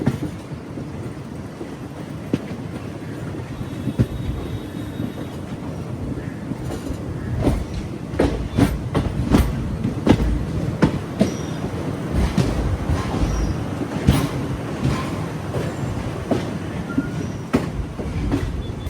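An express train from Chengalpattu toward Tambaram rolls steadily along the rails, with a continuous close rumble, sharp wheel clicks and occasional squeals throughout and no voices.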